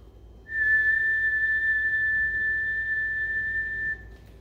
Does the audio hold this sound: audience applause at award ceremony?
no